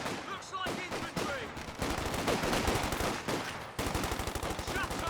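Light machine guns firing in the strategy game Company of Heroes 2: dense, rapid automatic bursts with steady rhythmic rattling, layered with other gunshots and battle noise, loud and continuous throughout.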